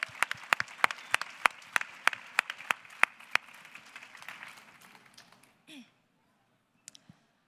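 An indoor audience applauds a slam poetry performer with scattered, fairly sparse claps that thin out and stop. A brief voice follows, and a few late claps are heard.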